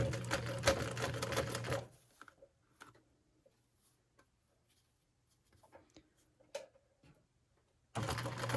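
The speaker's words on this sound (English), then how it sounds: "I'm going to start sewing in the center and go down to the end." A sewing machine runs a quarter-inch seam down the quadrants of a Le Cirque quilt, loud and steady at the start, then silence with faint ticks before the motor starts again at the end.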